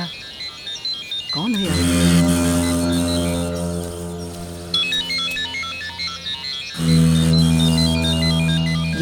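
A mobile phone ringtone plays a repeating melodic tune, loud and close, pausing briefly and then resuming, with a voice speaking over it.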